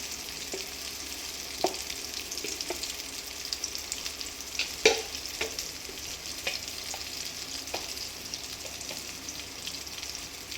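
Spices frying in a pan for vegetarian pulao, a steady soft sizzle with scattered light scrapes and clicks of a spoon stirring, close and fairly quiet.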